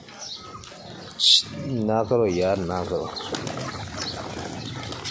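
Pigeons on a village-style house rooftop, a brief burst of flapping wings followed by soft cooing, close by and mixed with someone talking over it.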